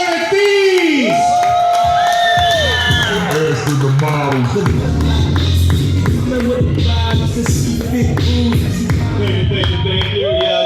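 A comedy club crowd cheers, whoops and claps loudly as a comedian from Arizona is introduced, a dense, continuous roar with shouted voices rising over steady applause.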